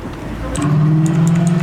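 A Ford GT500 with a Corsa exhaust idles close by, a loud deep droning rumble that swells and holds steady, with brief speech over it.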